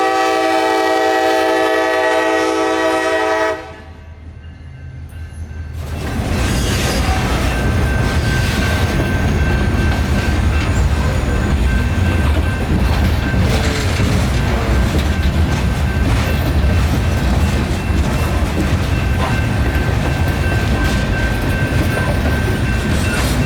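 A freight train blasts a loud, sustained horn at a road crossing, then after a short pause rolls past close by with a continuous heavy rumble and clatter of cars on the rails.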